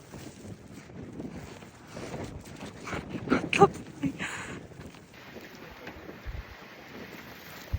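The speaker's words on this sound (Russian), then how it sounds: "Ветер." Blustery blizzard wind roars steadily outdoors in a snowy village in Bashkortostan, with gusts and rustling, a few faint voices briefly heard near the middle.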